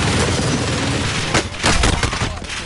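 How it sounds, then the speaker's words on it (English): Gunfire in Warzone, a dense burst of rapid shots crackling over a constant roar of battle noise, with a few sharper reports standing out near the end. "Where the fuck are you shooting?"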